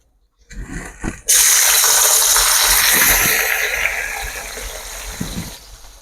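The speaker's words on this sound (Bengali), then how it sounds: "এগুলো ধুয়ে নিয়েছি এবার এগুলো আমি তেলের মধ্যে দিয়ে দেবো" Washed, chopped onions dropped into hot oil, bursting into a loud, sudden hiss after a few clanks, then a steady sizzle that gradually fades, close by with no talk.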